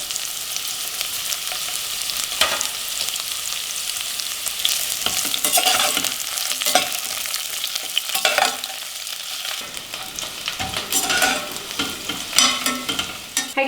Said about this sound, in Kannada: ಈಗ ನಾನು ಒಂದು ಮೀಡಿಯಮ್ ಸೈಜ್ ಕಟ್ ಮಾಡಿರೋ ಈರುಳ್ಳಿ ಹಾಕ್ತಾ ಇದ್ದೀನಿ